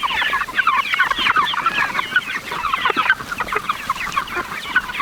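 Backyard chickens in a coop clucking steadily, a dense overlapping chatter of many birds close by, with no talking over it.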